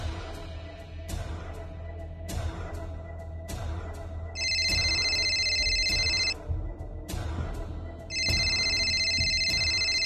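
A phone rings in two long electronic ringtone bursts over a low background hum and intermittent ticking clicks, fairly close and clear, with no talking.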